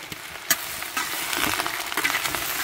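Tomatillos, onion and garlic with squash sizzling in a pan while being stirred, a steady loud fry with scraping stirring strokes and small crackles throughout, no voices.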